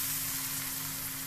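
Pointed gourd frying with spices gives a steady, dense sizzle in a pan, close and even throughout with a faint low hum beneath and no voices.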